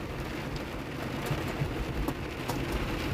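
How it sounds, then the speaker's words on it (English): Rain patters on a car during a thunderstorm as a steady, soft hiss of drops with a few sharper taps on the body and glass. It is fairly faint and continuous, and there is no talk. "it's raining just a little bit"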